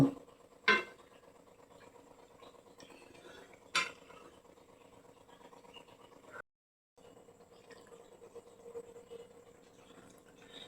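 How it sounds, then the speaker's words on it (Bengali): Fried lentil dhoka pieces go into simmering curry in a pot for potoler cholar daler dhokar, with two sharp clinks of utensil on the pot and a low steady bubbling simmer between, no talking. "ঝোলটাও আমার এখানে ফুটছে। আমি এর মধ্যে এবার ধোকাগুলো দিয়ে দেব।"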